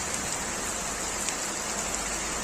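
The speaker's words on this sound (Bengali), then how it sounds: "প্রচুর বৃষ্টি হচ্ছে," Heavy rain pours steadily during a Kalbaishakhi storm in Feni, a dense, continuous hiss of drops on surfaces close by with no voices.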